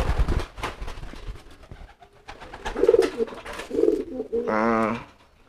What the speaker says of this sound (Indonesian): Tuh, ini juga ada merpati saya nih.